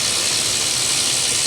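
Ratchet wrench clicking steadily as it backs out the last bolt on a 2015 Chevy Tahoe with a 5.3 engine, a dense, close, continuous rasp of pawl clicks with no talking.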